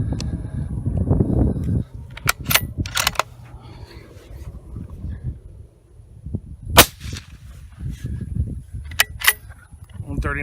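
Suppressed .308 rifle on someone's gun firing full-power subsonic 168-grain Gold Medal Match rounds, a few sharp muffled reports spaced apart amid outdoor rumble and low talk from people nearby.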